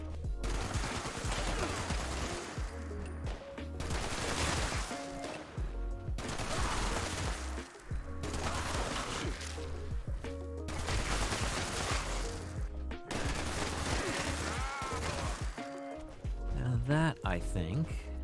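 Sustained bursts of heavy .50 cal machine-gun fire roar in the Fallout 76 video game, with several long volleys separated by brief pauses, loud and dense, while a player talks over the shooting.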